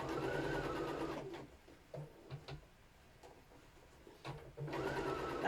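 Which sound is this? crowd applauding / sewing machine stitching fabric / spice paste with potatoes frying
sewing machine stitching fabric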